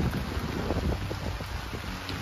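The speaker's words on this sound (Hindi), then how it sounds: "हल्की हल्की बारिश लगी हुई है मीठी मीठी बिल्कुल" Light rain falling around a tent pitched in a field, a dense, even hiss of drops with soft patter and some wind rumble, steady and close throughout with no voices.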